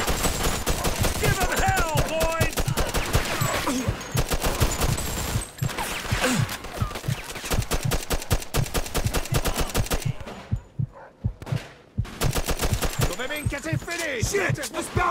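Rapid bursts of gunfire fill a Mafia II shootout, dense overlapping shots and automatic fire crackling loudly and almost continuously, with game characters shouting beneath the din and a brief lull near the end before the firing resumes.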